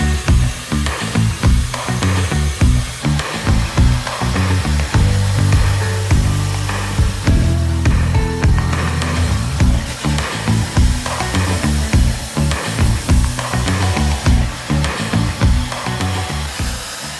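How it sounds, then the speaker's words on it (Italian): Steady loud whoosh of a hair dryer blowing close by, with fluctuating airflow and faint rustling as it moves, no voices. "mi vado ad asciugare i capelli"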